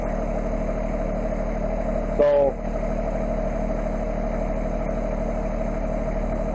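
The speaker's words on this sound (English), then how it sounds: "Top RPM speed down the highway for this tractor is still only 11 miles an hour." A Massey Ferguson 1526 tractor engine running steadily at top RPM on a highway, a constant low droning hum close by with a brief burst of wind or handling noise midway.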